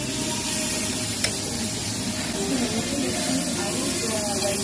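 Shrimp sizzling on a Korean barbecue grill, a dense steady hiss filling the whole stretch, close and fairly loud, with a faint click partway through.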